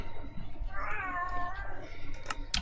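A noisy cat meows in the video game Horrifeye, its long, wavering, drawn-out cry rising and falling over a low background hum, followed by a couple of short clicks near the end.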